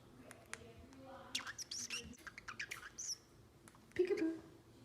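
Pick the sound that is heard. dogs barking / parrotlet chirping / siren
parrotlet chirping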